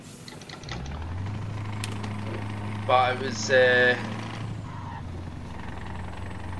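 A Scania truck with straight pipes idles in a trucking video game, giving a steady low droning rumble throughout while a voice briefly speaks over it midway.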